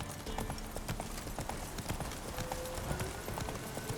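Geralt's horse Roach gallops in The Witcher 3, a fast steady rhythm of hoofbeats on the ground, with a faint neigh amid game ambience.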